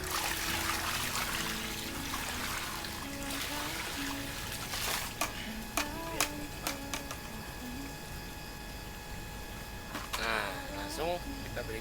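Liquid being poured into a tilapia fish pond, a continuous trickling and splashing stream with bubbly gurgles, heard close and fairly soft as someone talks over it.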